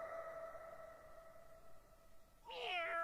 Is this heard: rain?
no